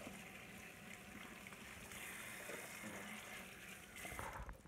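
Tap water runs steadily and close by while cauliflower is washed under it in a kitchen sink, a continuous splashing rush with faint clattering near the end.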